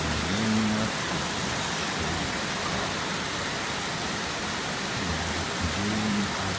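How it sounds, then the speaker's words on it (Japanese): Very heavy typhoon rain pours down in Odawara, Japan, a dense continuous hiss of downpour close by, with faint low tones briefly at the start and end. "非常に激しい雨が降っております。"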